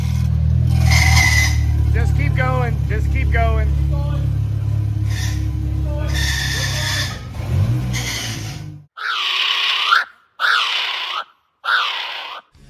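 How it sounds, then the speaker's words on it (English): Race car with a failing clutch linkage or throwout bearing at a 24 Hours of Lemons endurance race, a sustained engine drone under shouting voices, then a few sharp grinding bursts as it stops engaging. "their clutch linkage or throwout bearing was failing."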